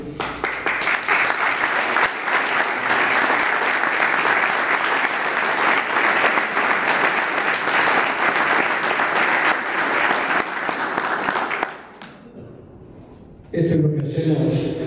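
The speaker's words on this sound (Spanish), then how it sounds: "Ustedes están para aplaudirme a mí." Sustained, loud applause from a crowd honoring Malvinas war veterans at a gathering in Saladillo, steady for about twelve seconds before dropping off, followed by a brief burst of noise near the end.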